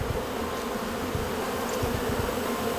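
Honeybees buzzing around a hive on the North Fork: a dense, steady hum of many bees close by, with no voices.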